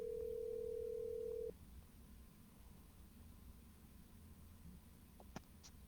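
A telephone dial tone holds for about a second and a half, then cuts off, leaving quiet line hiss with a few faint dialing clicks and beeps.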